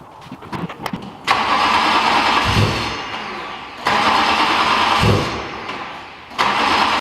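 A supercharged BMW E30 M3 engine fitted in an E21 cranks and fires, catching loudly and running in rough bursts that die and restart three times, close up, with no one talking.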